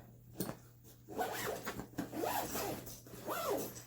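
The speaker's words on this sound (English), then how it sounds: "So once you zip this up" A zipper on an eBags TLS Mother Lode Weekender backpack is drawn closed in three quick rasping pulls, close and fairly quiet, each stroke sliding in a short arc with faint handling noise between.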